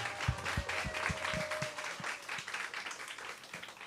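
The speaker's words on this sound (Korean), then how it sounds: "유진 쌤한테 다시 한번 박수 부탁드리겠습니다" A church high school youth group claps at a Sunday gathering, a moderate burst of applause with a few distinct nearby claps standing out at first, tapering slightly toward the end.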